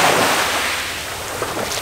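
Rough, choppy sea water and surf at a Sardinian beach, a steady broadband wash of waves with some wind rumble, fairly loud and close, with no voices.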